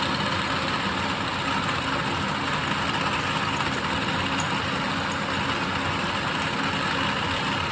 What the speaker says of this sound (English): Phenomenal racing here live at Daytona International Speedway at the Pepsi 400.